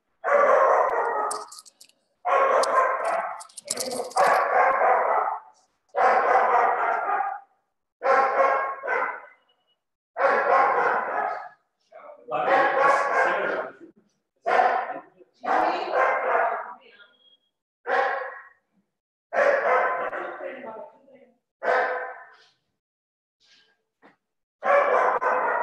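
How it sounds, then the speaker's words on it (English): Dog barking repeatedly in the background, loud, hoarse woofs coming in steady spaced bursts for the whole stretch, with occasional brief gaps. "There's the dog barking in the background."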